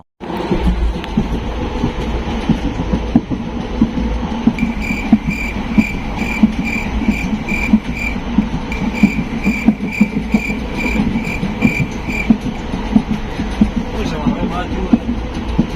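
Steady rumble of a train rolling along the rails from Rajkot toward Junagadh, with faint rhythmic clatter and a high whine, continuous throughout; faint voices mix in.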